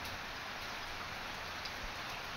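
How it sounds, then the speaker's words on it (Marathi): Steady rain pours down in a dense, even hiss, unbroken from start to finish. "ते पाऊस बघा तिकडे किती आला बापरे"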